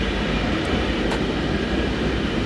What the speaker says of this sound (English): I do quite like this train.